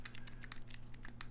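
Rapid keyboard typing of an answer in Family Feud on the NES, a quick run of light, close key clicks over a faint steady hum.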